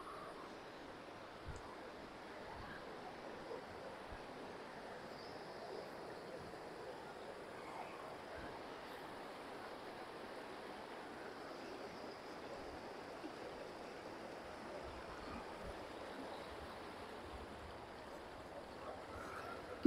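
A waterfall and stream in Mussoorie give off a faint, even rushing of flowing water, steady and unbroken throughout, with no voices.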